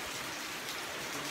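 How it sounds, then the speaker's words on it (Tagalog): Steady, dense rain falls in the province of Bohol as a constant loud hiss of drops on surfaces, with no voices. "Magtagalig ka kasi umulan."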